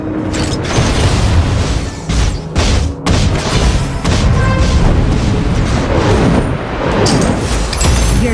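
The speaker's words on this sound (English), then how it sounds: "Your team has destroyed a turret." A turret being destroyed in the video game Honor of Kings: dense, sustained booms and crashing impacts that roll on with brief dips throughout.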